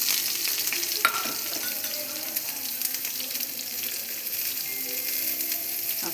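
Curry leaves and a small onion frying in a pan with a strong, steady hiss, close and continuous, with a few faint knocks from the utensil.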